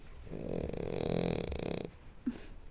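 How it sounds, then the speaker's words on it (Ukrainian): A bulldog snores in a home, a soft, low rasping breath lasting under two seconds followed by a brief snort, close by and fairly quiet. "Хропе."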